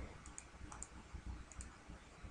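Mouse clicks on a computer while working in Maya UV mapping software, a few light, sharp clicks in quick pairs over a low background hum.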